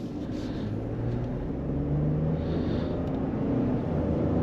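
Steady engine drone and faint rising whistle from a 2022 Ford F-150 XLT Crew Cab with the 2.7L V6 turbo accelerating in sport mode, heard from inside the cab at an even level with no talk.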